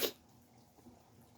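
A single sharp sneeze bursts out at the very start, loud and close, then fades into quiet room tone with faint breathing.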